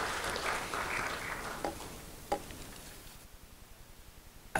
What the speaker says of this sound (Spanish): quisiera pedirle por favor un aplauso caluroso para los 4 panelistas que nos acompañaron